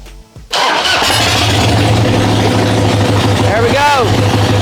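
A motorcycle engine with a lithium battery catches and starts after a brief crank in cold weather around 1 degree, then settles into a steady, loud, close idle with a low rumble.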